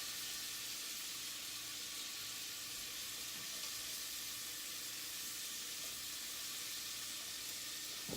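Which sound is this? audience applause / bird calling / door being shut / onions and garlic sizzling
onions and garlic sizzling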